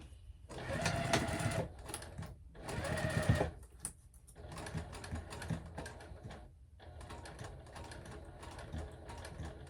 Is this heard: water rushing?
no